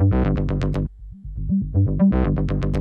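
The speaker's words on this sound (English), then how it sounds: "selecting a ramp and playing back one single sample sounds like this" A single synth bass sample played through the Refractor Audio Transport plugin with a ramped filter cutoff: a loud, buzzy, distorted tone that briefly drops to a dull, muffled low pulse and then opens back up to a bright, gritty sound. No voices.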